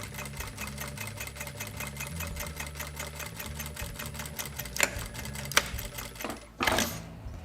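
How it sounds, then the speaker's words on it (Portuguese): A sewing machine stitches a fabric wallet in a fast, continuous mechanical whir. It runs steadily, then stops with a few clicks and a final rustle. "Então agora nós vamos fazer essa costura, tá? Na nossa carteira."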